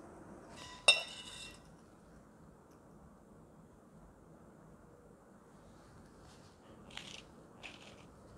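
Utensils clinking against a plate while plating US beef fillet with black pepper sauce, a sharp clink at first, then faint scraping and two lighter clinks near the end in a quiet room.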